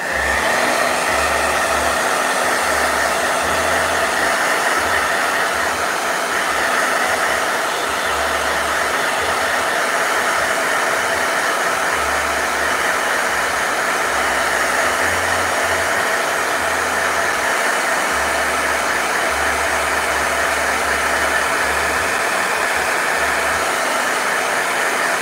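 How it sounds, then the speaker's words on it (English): A hair blow dryer runs steadily for the whole stretch, drying wet gouache and watercolor paint on paper, with a constant loud airy whoosh over a low motor hum and no talking. "Blow dryer."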